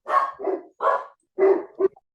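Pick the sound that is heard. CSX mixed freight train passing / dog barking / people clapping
dog barking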